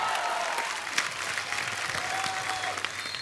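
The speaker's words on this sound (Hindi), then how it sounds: "एक बार जोरदार तालियां गोविंदा सर और सुनीता मैम के लिए।" A studio audience on a television comedy show claps loudly and continuously, a dense, even burst of applause with a few sharper claps standing out, with no talk over it.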